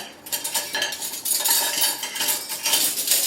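Metal silverware for a casual Thanksgiving table setting clinks and rattles repeatedly against dishes, close and fairly loud, with an irregular rhythm of small chinks and scrapes and no talking.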